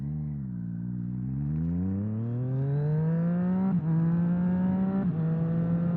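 Triumph Street Triple motorcycle fitted with a Leo Vince exhaust, engine revving up in a rising, deep-toned pitch sweep that levels off into a sustained drone with brief dips from gear changes.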